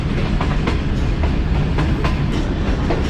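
The Baba Fareed Express rolls toward Khanpur Junction with a steady rumble and a faint repeating clatter from the wheels, heard close and continuous, with no voices.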